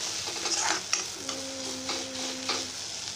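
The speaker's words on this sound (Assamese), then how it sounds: "এয়া ধুনীয়াকৈ গোটেইবোৰ মিহলাই লৈ ভাজি ল'লোঁ।" Onion, garlic, ginger and spices stirred and fried in hot oil as a masala filling for bitter gourd; a close, steady sizzle with repeated spatula scrapes and light clinks against the pan.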